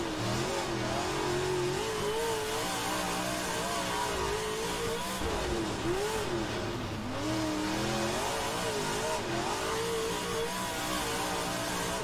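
Stock car engines race side by side in rFactor 2, a loud, continuous roar whose pitch rises and falls with revving and shifting throughout.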